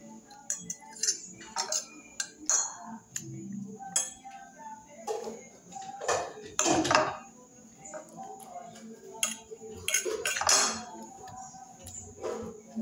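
Cutlery clinks and scrapes on a plate while someone eats rice with meat, light scattered taps and chinks at close range, with quieter sounds of eating between them.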